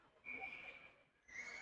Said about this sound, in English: And there's a whistle, so we'll do it again.